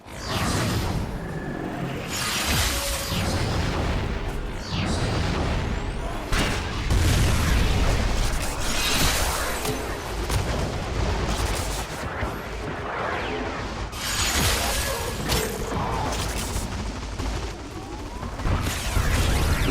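Rapid bursts of gunfire from the Stelter weapon in Warframe, mixed with booming explosions and impacts that repeat irregularly across a long, busy stretch of combat, loud and dense with little pause.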